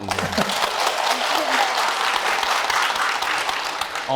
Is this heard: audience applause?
yes